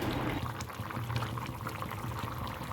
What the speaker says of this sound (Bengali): তরকারি ফুটে গিয়েছে